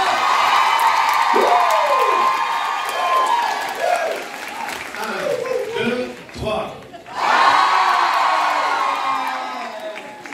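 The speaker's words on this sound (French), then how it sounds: "je veux des applaudissements pour vous" Crowd at an opening ceremony cheering, whooping and applauding loudly, with shouting voices rising and falling throughout and a brief dip before a renewed burst.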